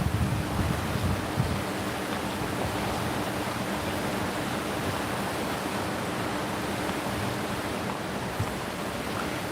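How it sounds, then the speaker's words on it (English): A small creek runs past rooms in the alpine town of Helen, Georgia, a steady broadband rush of flowing water, close and continuous with no talk. "the little creek here."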